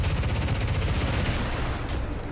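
Rapid, continuous aircraft cannon fire from rear-facing cannons on an Su-22 jet in the Metalstorm video game, a dense rattling stream of shots, loud and sustained throughout.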